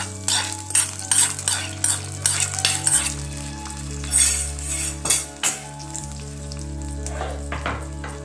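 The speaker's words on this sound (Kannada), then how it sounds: "ಇವತ್ತಿಗೆ ನಾನು ಒಗ್ಗರಣೆ ಹಾಕಿದರೆ" A tempering for poha pongal sizzles and fries in a pan close by, with repeated scraping strokes of a metal spoon and clinks against the pan.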